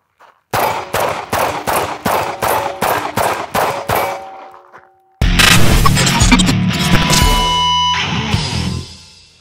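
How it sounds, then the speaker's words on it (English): A handgun fires paired shots at a series of targets while the shooter walks: about nine sharp, evenly spaced reports ring out close and loud, followed by a dense, sustained burst of clattering gunfire and echo. "we'll engage each target with two shots"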